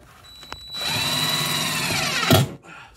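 A power drill drives screws into wood while repairing a broken floor joist, a close, loud whirring spin that holds steady for over a second and then winds down with a brief bite at the end.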